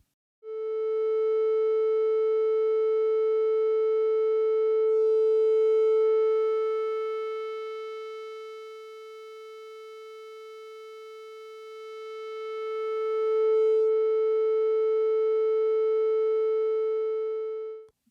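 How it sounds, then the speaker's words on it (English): A triangle wave fed through a high-pass filter: one steady tone with a stack of even harmonics that thins and dips in level while the cutoff is turned, then swells back to full strength, all alone with no talk. "So that's what it sounds like to pass a triangle wave through a high-pass filter."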